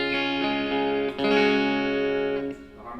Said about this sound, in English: this is just the plain guitar into the amp model.